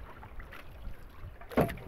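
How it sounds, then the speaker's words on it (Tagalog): Choppy sea water sloshes and slaps against a small fishing boat in strong waves and wind, a low continuous wash with one louder splash near the end. "Napakalakas ng alon"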